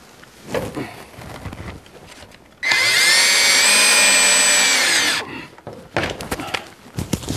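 A power drill whirs loudly for about two seconds while trying to drive a screw near vinyl siding, with quieter knocks and handling bumps before and after.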